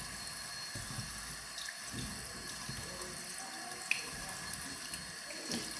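Water runs steadily from a tap into a sink while a face mask is rinsed, a continuous hissing splash with small shifts as hands move through the stream.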